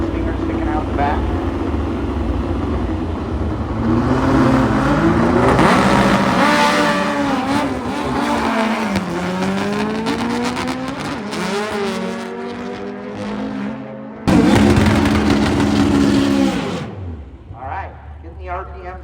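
Loud VW drag race cars with stingers sticking out the back accelerate down the strip at Las Vegas Motor Speedway, a sustained roaring engine with rising and falling pitch sweeps, a brief drop and then a renewed burst of noise.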